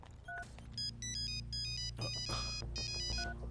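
A phone ringtone plays a bright repeating electronic melody in quick bursts, loud and close, with no voices.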